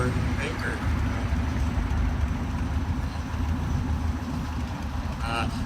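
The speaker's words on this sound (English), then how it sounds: "next vehicle is a 1968 mechanical mule made by Bayfield" A 1968 Bayfield mechanical mule, a small army utility vehicle, rolls past at an outdoor steam show parade with a steady low engine rumble, while voices and crowd noise carry on around it.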